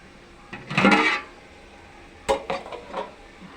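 Powdered spices tipped into a cooking pan, heard as a short rattling pour with metallic scraping, then a few sharp clinks of a spoon against the pan.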